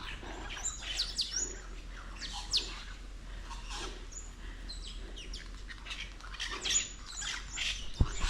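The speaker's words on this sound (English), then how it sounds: "Can you hear all the birds?" Several birds in Tasmania chirp and tweet in short, scattered bursts over a quiet, warm outdoor background on a hike, some calls close and others more distant.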